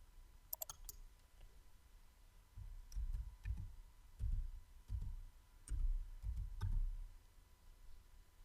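Computer keyboard typing: soft, quiet keystrokes tapped in short irregular bursts, a few sharper clicks at first and then a cluster of muffled presses, with no talking.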